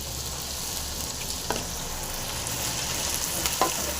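Tomatoes with curry leaves fry in a pan with a soft, constant sizzle and two brief scraping stirs, one midway and one near the end, and nobody speaks.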